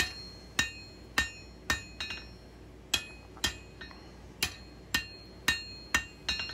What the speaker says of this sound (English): I was hammering from the spine side to drive the blade edge downward.